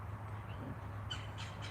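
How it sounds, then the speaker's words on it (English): Red-headed woodpeckers calling outdoors: a few short, harsh squawking calls, fairly faint and distant, over a steady low hum. "Those are woodpeckers. They got the red heads."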